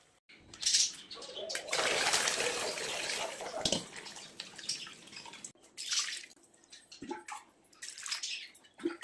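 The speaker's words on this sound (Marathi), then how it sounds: "याला छान आपण मस्त थंड पाण्याने धुवून घेऊया" Curdled milk, split with lemon juice, being rinsed under cold water while straining, a steady loud splashing and pouring of water near the microphone with a few drips, no talking.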